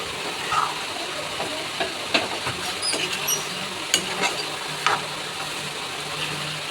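Chicken skin sautéing in a pan, a dense continuous hiss with scattered crackles and faint utensil scrapes, close and fairly loud, with no voices.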